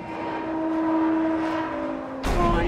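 A train approaching in Spider-Man: Miles Morales, with a sustained tonal horn-like drone over rumbling and a sudden louder rush as it arrives near the end.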